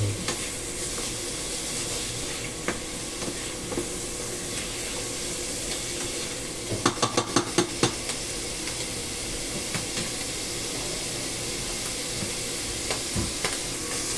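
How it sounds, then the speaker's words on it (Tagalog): Mushrooms sauté and get stirred in a hot pan, a steady loud sizzle running throughout with a brief burst of quick scraping strokes midway. "For 5 minutes, i-continue stir ko lang at hanggang sa medyo mag-golden brown na."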